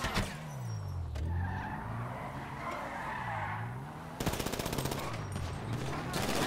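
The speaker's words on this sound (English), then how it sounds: "The fact that they're shooting at the car knowing it's bulletproof is kind of funny to me." Gunfire rattles against a bulletproof car in the GTA 5 Online video game, a loud rapid burst at the start and another dense burst near the end, between them engine noise and screeching tires.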